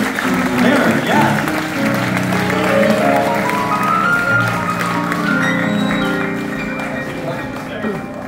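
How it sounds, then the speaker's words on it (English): At a ballroom concert in Las Vegas, the audience claps in a steady rhythm under a loud singing voice and music, and the clapping stays mixed beneath the performance. "You're clapping. Keep clapping. Everybody must be clapping right now."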